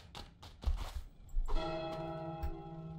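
Church bell in Goat Simulator 3 tolls with a loud metallic strike, its sustained ringing overtones hanging on after a few dull thumps and knocks, with no talk.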